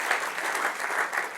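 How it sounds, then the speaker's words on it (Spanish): A church congregation claps together in brief, dense applause, a steady patter of many hands filling the room, moderately loud and uninterrupted by talk. "Denle un aplauso al que vive"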